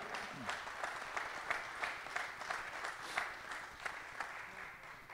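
Audience applause for a para shooter at the Lima 2021 World Shooting Para Sport mixed 50m rifle prone final, a modest crowd clapping in a fairly distant, even patter with distinct individual claps standing out.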